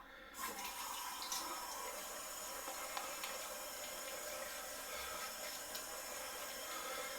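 Water splashing and running as a face is rinsed during a wet shave, a steady close wash of liquid with small splashes, no talking.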